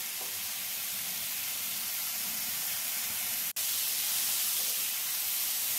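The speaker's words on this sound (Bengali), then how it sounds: "একেবারে এরকম হাই ফ্লেমে ঝিঙেটাকে ভেজে নিতে হবে।" Ridge gourd fries in a pan over high flame, a continuous dense hiss of sizzling with one brief sharp click midway.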